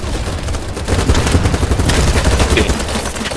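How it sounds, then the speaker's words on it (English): Dense, loud gunfire and blasts crowd a BattleBit battle, with continuous rattling shots and a heavy rumble that may include a grenade explosion, no voices on top. "Oh, there's a grenade!"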